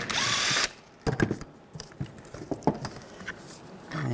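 A power tool with a 15mm socket spins off a bolt from a 2013-2015 Chevrolet Malibu front lower control arm, one short whir followed by ratcheting clicks and tapping of metal.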